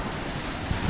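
Strong wind and crashing surf during a typhoon, a steady loud roar of gusts buffeting the microphone over the wash of waves, with no voices.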